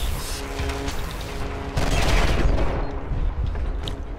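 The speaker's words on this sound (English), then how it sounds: "Oh, they threw a grenade in here." An electric grenade detonates in the shooter game F.E.A.R. 3, a loud crackling burst that swells halfway through amid scattered gunfire and mechanical clatter, with brief speech-like noise mixed in.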